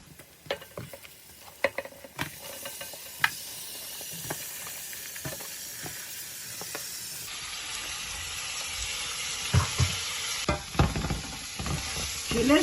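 White aubergines and onions sauté in a pan for a Central African spinach and fish dish, giving a steady close sizzle and hiss broken by sharp scraping and clacking stirs, with no talking.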